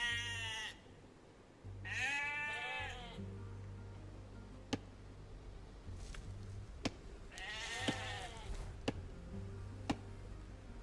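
Several game sheep bleat in Age of Empires II: Definitive Edition on Xbox Series X, three distinct bleats with pauses between them, backed by a steady low game hum and sharp clicking interface ticks.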